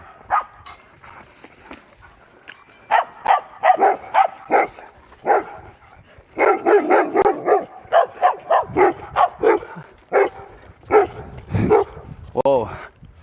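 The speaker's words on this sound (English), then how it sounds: "Well, they're active dogs." Several large, active dogs bark outdoors on a hiking trail in Austin, loud and close in irregular bursts of deep woofs, yips and a whimper, with a person talking in between.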